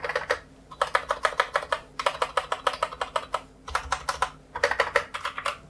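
Krux Meteor RGB mechanical keyboard with Outemu Brown tactile switches being typed on, fast close-up bursts of crisp clacking keystrokes separated by brief pauses, with no voices.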